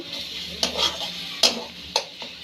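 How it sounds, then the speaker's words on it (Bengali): Red amaranth greens stir-fried in a pan, a soft steady sizzle broken by several sharp scraping clacks of a spatula against the metal, with no voices. "শাকটা ভাজা হয়ে গেছে"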